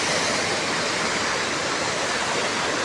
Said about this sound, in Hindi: लेकिन ये नदी बहुत ही पावरफुल है